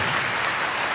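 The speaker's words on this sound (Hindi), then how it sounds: "एक अच्छी ताली सिर्फ प्रभु यीशु के लिए, थोड़ा जोर से।" Church congregation applauding together for Jesus, a dense, steady wash of clapping from many hands, loud and sustained throughout without pause.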